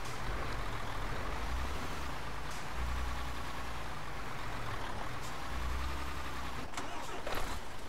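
Truck engine in Euro Truck Simulator 2 cutting out and cranking back to life: a low rumbling idle that dips and surges, with a brief hiss or air-brake burst near the end, no talking.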